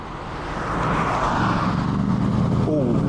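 A Rover 75 V8 with a heart-shaped exhaust tip roars at a farm shop car meet, the engine building from quieter to a loud sustained rumble as it pulls away, with people talking nearby.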